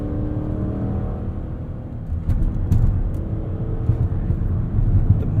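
A 2021 Maserati Levante SUV driving in Corsa mode, its engine a loud, low, rumbling drone that swells and pulls harder midway, with no talking.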